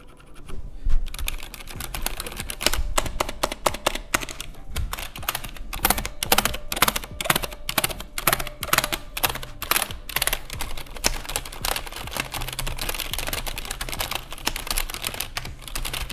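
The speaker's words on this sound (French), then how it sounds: "donc voilà pour le bruit que dégage ce clavier." A Cherry G80-3000N mechanical keyboard is typed on up close. Clattering keystrokes arrive in uneven bursts, fast in places and sparse in others, with sharp clicky strikes and no voices.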